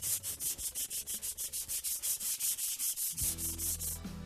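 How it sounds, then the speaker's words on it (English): A piece of wood being lightly sanded by hand with 150 grit sandpaper during a guitar overhaul, in steady rhythmic back-and-forth strokes, close and even, with a low hum entering near the end. "I'm going to take a piece of 150 grit sandpaper and just go through and lightly sand it"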